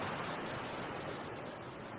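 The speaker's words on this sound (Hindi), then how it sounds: "अपनी आंखें बंद कर समुंदर की लहरों को सुनकर मुझे शांति मिलती है" Sea waves wash steadily onshore as a constant, broadband surf roar, close and even in level, with no voices over it.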